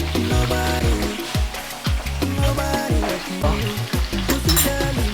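Beetroot bhajias sizzling and crackling in hot oil, with a steady frying hiss and repeated bubbling bursts throughout, close by and without talk.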